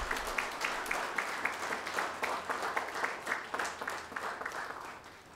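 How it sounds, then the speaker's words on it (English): At a postgraduate diploma convocation ceremony, a hall audience applauds the gold medalists with steady, moderately loud clapping in which individual claps stand out within the crowd. "Let's have a huge round of applause for all our gold medalists."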